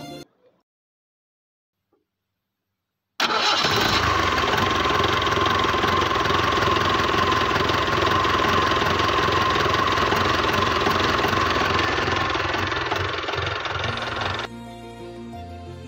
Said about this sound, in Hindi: चलो एक बार आपको इसके इंजन का साउंड सुनाता हूँ।